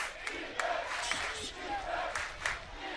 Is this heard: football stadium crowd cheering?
yes